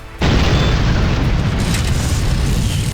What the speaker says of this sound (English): all that is left is to blast into the tower to retrieve it.